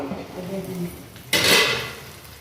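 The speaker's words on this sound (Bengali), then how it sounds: "এখন পাতুলিটা একটু উল্টে দেবো" A bhola fish paturi is flipped in a cooking pan: a metal utensil clinks and taps, then a sudden loud scrape and rustle as the parcel turns over. It is close and brief, with no voices.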